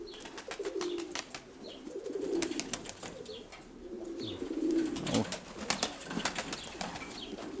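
Domestic pigeons in a loft, one owner's bird among them, cooing in repeated low throaty phrases. The birds are fairly close but soft, with faint chirps and scattered clicks and rustles around them.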